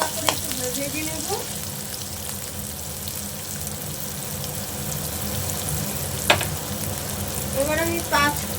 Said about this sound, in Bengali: এটাও হালকা করে একটু ভেজে নেব।